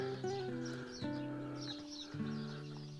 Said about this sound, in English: all you can hear is birds twittering away